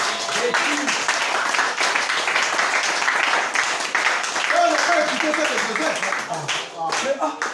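An audience claps and cheers for a little girl who prays for the sick at a church meeting. The applause is steady and dense, with voices mixed in throughout.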